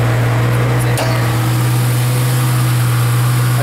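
A 4.0 liter V6 car engine on a race tune, making about 305 horsepower, idles close by with a loud, steady low drone and strong hum, with one brief tap near the start and no talking.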